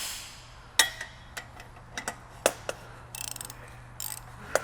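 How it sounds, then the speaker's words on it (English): Ratchet with a 7/8 shallow socket and 10-inch extension loosening a brass burner nozzle on a liquid propane burner gun: scattered sharp clicks and short ratcheting bursts, close and fairly quiet over a steady low hum. "Using a 7/8 shallow socket, a 10-inch extension, and a breaker bar or ratchet, whatever your pleasure is."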